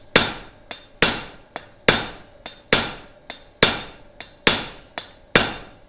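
Hot steel in a gas forge is hammered to upset a bevel: loud, sharp ringing blows fall in a steady rhythm of about two per second, each followed by a lighter rebound tap, close and with no talking.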